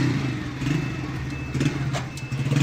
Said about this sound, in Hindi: अक्सर जब भी आप बाइक को स्टार्ट करते हैं तो आपकी बाइक इस तरह की आवाज़ देती है।